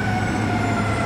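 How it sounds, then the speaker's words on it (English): A fire truck siren wails loud and steady, close by and sustained, with no talk over it. "Might as well wait till the sirens pass."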